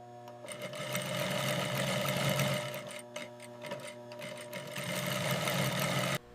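An industrial flatlock sewing machine stitching football jersey hems runs at a fast, even buzz, briefly easing off midway before revving back up, loud and close with no voices.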